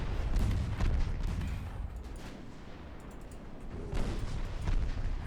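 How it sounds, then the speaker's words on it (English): A torpedo strikes a warship in the naval battle game Ultimate Admiral Dreadnoughts, heard as deep, rumbling booms and muffled blasts that swell, ease off, then surge again, with no speech over them. "As we score another torpedo hit."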